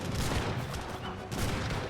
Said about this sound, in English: Does take a volley there.